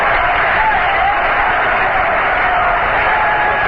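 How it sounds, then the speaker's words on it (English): A big baseball stadium crowd at a 1973 NLCS playoff game between the Mets and Reds, a steady dense roar of murmuring and stirring voices that stays loud and even throughout with no single voice standing out. "Big crowd stirring around."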